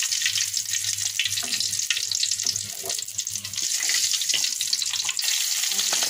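Broken bay leaf sizzling in mustard oil in a wok, a steady close frying hiss with occasional light stirring clinks and no voices.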